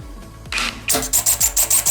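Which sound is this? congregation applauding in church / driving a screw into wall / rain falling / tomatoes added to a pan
driving a screw into wall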